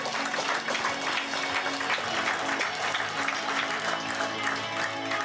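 An audience claps for a referee arriving at a pétanque final at a festival in Saint-Juéry, a steady wash of applause from a sizable crowd, with faint voices mixed into it.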